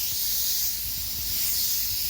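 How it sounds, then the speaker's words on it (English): Compressed air hissing steadily out of the tank of a silent oil-less air compressor, a continuous broadband rush of moderate loudness with no speech over it. "It's just filled up, so I need to let some air out"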